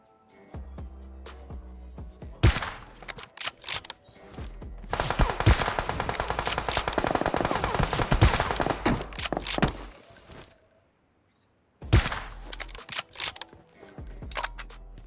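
Gunfire in a BGMI fight, loud bursts of rapid automatic shots and single cracks, coming in dense clusters broken by short pauses and a brief silence, up close with no talk.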